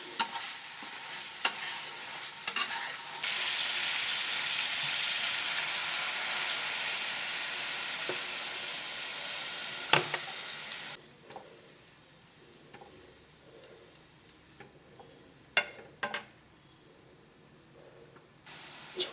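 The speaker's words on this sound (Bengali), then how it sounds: "ভালো করে আলু দিয়ে মশলাটা কষিয়ে নিচ্ছি।" Spice masala sautéed with potatoes in a pan for a tangra fish curry, a loud continuous sizzle that later drops to quieter frying with occasional utensil clinks and scrapes.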